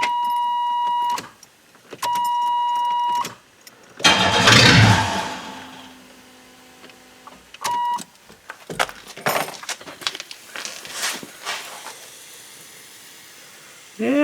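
A Chevrolet Lumina with a leak cranks and starts after repeated ignition chimes, then idles and runs roughly, with clunks and rattles nearby.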